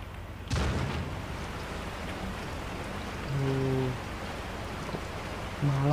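Night rain in the video game Resident Evil 4, a steady hiss of falling rain with a low thump near the start and brief tonal game sounds layered over it, voices faint beneath.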